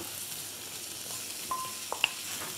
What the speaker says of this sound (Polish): Mieszamy i smażymy przez kilka minut.